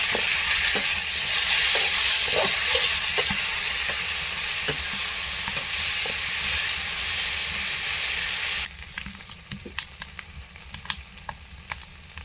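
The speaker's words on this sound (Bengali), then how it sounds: "এখন দিয়ে দেবো কাঁচা লঙ্কা বাটা একটু নেড়ে নেব এখন" Green chili paste sizzles loudly in hot oil while being stirred for meat and lentil-rice khichuri, a dense steady hiss with scraping stir strokes that drops abruptly to quieter frying and utensil clicks near the end.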